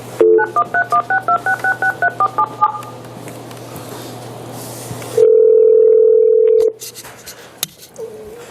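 Push-button telephone dialing, a quick run of about a dozen crisp DTMF tones, then a steady ringback tone from the line and clicks as a county office call connects.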